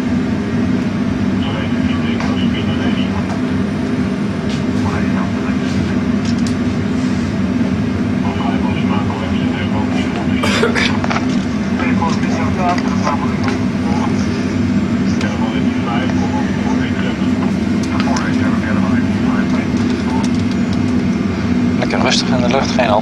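Steady engine drone with a low hum, continuous and loud, of an airplane climbing in a flight simulator game near Dubai; a voice speaks over it at times.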